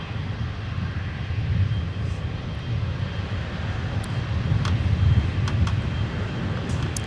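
An aircraft rumbles steadily on the runway at Minneapolis–Saint Paul airport, a loud, continuous low roar that swells slightly midway, with no voices.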